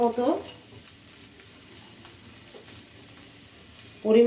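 Potatoes sizzling in a pan for aloo matar curry, a faint steady crackle in the background, with a louder burst of activity at the start and again at the very end.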